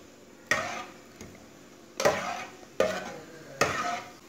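Cumin and coriander seeds roasting in oil, a faint background sizzle broken by four sharp scraping stir strokes spaced about a second apart.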